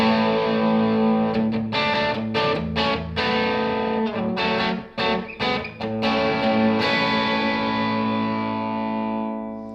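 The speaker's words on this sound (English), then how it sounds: "Blue side is a little more of a sort of a clean and open drive sound." Electric guitar through the blue side of a Browne Amplification Protein distortion pedal into a tube amp, a warm open drive with chords strummed and left ringing, loud and close with no talk.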